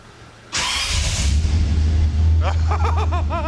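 A turbocharged V12 swapped into a Toyota Cressida cranks and fires with a sudden loud burst, then settles into a deep rumbling idle while voices talk over it.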